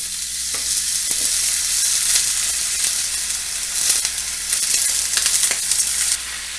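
Food for a taco casserole sizzles in hot oil in a pan, a loud, steady crackling hiss with occasional sharper pops, no voices over it.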